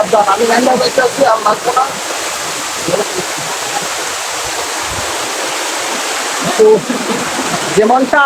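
Jaflong Mayabi waterfall splashing over slippery rocks, a steady broad rush of falling water that continues under intermittent talk from a nearby voice.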